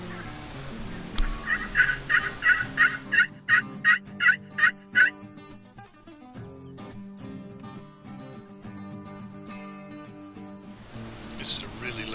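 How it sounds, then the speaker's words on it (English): Wild turkeys in the field, a loud hen calling hard while a tom gobbles alongside, a rapid run of about ten sharp, evenly spaced calls ringing out close, then softer clucks and one last call. "This is a really loud hen that decides to come charging in and brings a tom with her, letting her do most of the calling."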